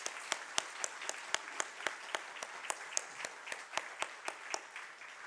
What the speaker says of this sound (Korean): 우리 모든 성도들이 감사의 마음을 담아 우리 박수로 감사를 표현하도록 하겠습니다